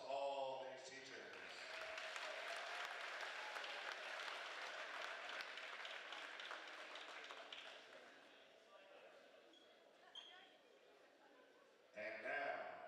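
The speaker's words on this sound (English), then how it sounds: "let's give a big round of applause to all these teachers" Crowd applause at a girls' high school basketball game, honoring teachers in the gym: a loud, sustained wash of clapping that rises quickly and then gradually thins, with an announcer's voice breaking in near the end.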